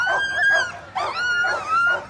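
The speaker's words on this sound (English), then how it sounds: "checking on the dogs, making sure they're good to go" Sled dogs at the start of a sprint sled dog race on a city street in Anchorage, yelping and howling loudly and continuously in high-pitched, excited bursts close by.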